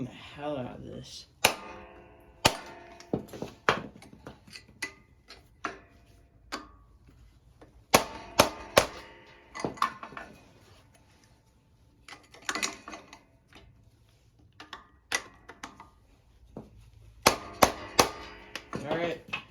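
Sharp metallic bangs and clanks as a screwdriver hammers a rototiller's starter plunger, striking irregularly, some in quick bursts, with quieter gaps between and muffled voices in the background.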